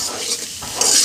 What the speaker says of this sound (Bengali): এখন ভালো করে নেড়ে চেড়ে 2 মিনিট ধরে ভাজতে হবে